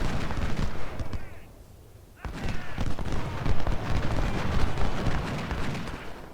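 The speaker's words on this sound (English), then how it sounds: "Good volley, now charge." Infantry muskets fire volleys in Ultimate General: Civil War, dense crackling rounds rolling together with a short lull before another thick barrage, loud and sustained.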